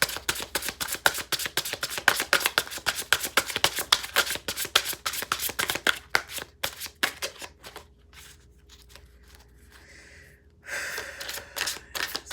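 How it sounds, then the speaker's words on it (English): Tarot cards being shuffled by hand, a fast run of crisp riffling flicks for about eight seconds, then a quiet gap and a brief softer shuffle near the end, close and fairly loud with no talking. "So I'm going to pull a tarot card."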